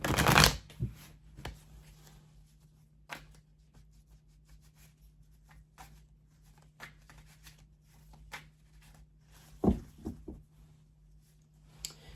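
Tarot cards shuffled by hand at close range, with a burst of riffling at the start, then soft intermittent slides and taps with quiet gaps between them.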